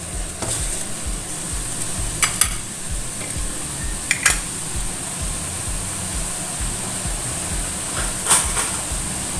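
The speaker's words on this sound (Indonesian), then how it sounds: "Di sini ditumis ayamnya terlebih dahulu." Chicken sautéing in a pan produces a constant hiss and sizzle with a rhythmic low rumble underneath and a few sharp clinks of a spatula against metal, close up and free of speech.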